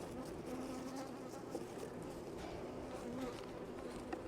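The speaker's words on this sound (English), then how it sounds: "There's a bee." Honey bees hum steadily around an open beehive during a July inspection, a continuous soft, wavering buzz with individual bees passing close now and then, and no speech.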